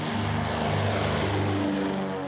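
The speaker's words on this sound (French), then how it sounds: "C'est toujours assez spectaculaire de voir les avions décoller et arriver." Propeller airplane engine roaring at full power during takeoff or landing on Saint-Barthélemy, a loud, steady drone with strong low harmonics that holds close and constant throughout.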